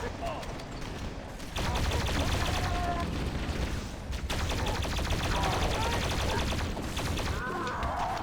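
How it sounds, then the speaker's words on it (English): Plasma rifle in a Halo mod fires in long sustained bursts of rapid crackling shots, loud and close, with a short pause midway before the stream resumes. "This plasma rifle doesn't do as well against shields, but it completely devours flesh."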